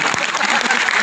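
An audience at a motivational session claps in a dense, continuous burst of close applause, with a voice speaking over it.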